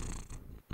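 Cat Boomer purrs loudly and very close, a brief rough rumble that dips for a moment as a breath turns, then rises again, with no talking.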